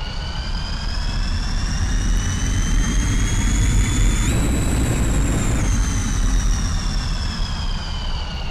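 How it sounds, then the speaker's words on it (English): MiG-21bis jet engine in the DCS flight simulator heard from outside the aircraft: a loud, continuous roar with a steady rumble and high whine that surges briefly midway, as when afterburner kicks in, then settles back. "Let's listen to the engine outside."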